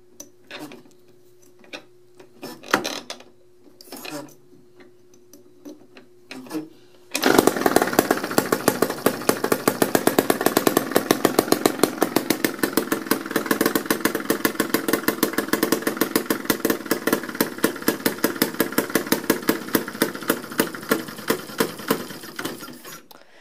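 A homemade internal combustion engine built without a machine shop runs with no muffler, a loud, rapid, harsh popping chatter that starts abruptly after some quieter knocking and keeps up steadily to the end, with no talk.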